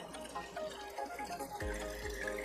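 Harvest punch poured into a glass as a cocktail is built, a steady close liquid stream with a heavier splash near the end, no talk.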